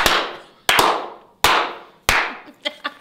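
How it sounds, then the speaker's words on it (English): A handful of people giving a slow clap, heard as four loud, evenly spaced single claps about two-thirds of a second apart, then a couple of quicker, fainter claps at the end. "Come on, let's slow clap."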